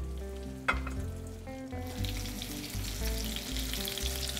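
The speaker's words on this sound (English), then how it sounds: "That's the sizzle we want to hear." Walleye fillets crusted with Parmesan and crushed Ritz crackers sizzle in a hot pan, a close, continuous frying hiss with small pops.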